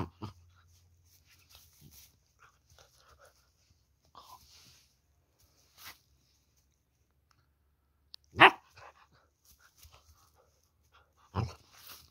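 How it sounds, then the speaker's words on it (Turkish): An Anatolian Shepherd puppy gives a few sharp, close barks and yelps, spaced out across a mostly quiet stretch with faint soft rustling and clicking between them. "Sizi Anadolu Çoban Köpeği yavrusuyla baş başa bırakıyorum arkadaşlar"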